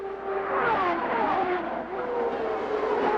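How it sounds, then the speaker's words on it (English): CART race cars at Mid-Ohio in 1998 brake into turn 3, a loud, high engine whine dropping in pitch as revs fall, with overlapping engine tones from more than one car at moderate distance. "Scott Pruitt knows that the only place he's going to be able to get by Adrian Fernandez is at the end of this straightaway, right down under braking into turn 3."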